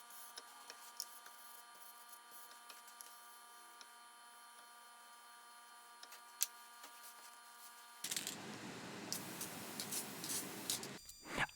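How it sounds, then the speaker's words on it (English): A quiet tonal hum, then a steady hiss of a spray-on coat being sprayed onto the back of a CNC-machined plaque that starts abruptly and runs for a few seconds before cutting off. "Then, after it dries, I'll apply a spray-on coat to the back to help prevent any drips."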